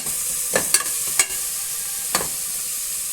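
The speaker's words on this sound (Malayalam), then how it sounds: "ഈ തക്കാളി ചതച്ച് വെച്ച ഈ ചെറിയുള്ളി വെളുത്തുള്ളി ഇഞ്ചി എല്ലാം ഇട്ട് കൊടുക്കുന്നുണ്ട് നമ്മൾ നിളക്കി കൊടുക്കുക" Tomato, shallots, garlic and ginger stirred in a pan for an egg curry, with a few brief scraping strokes of the spoon against the pan over a faint steady sizzle.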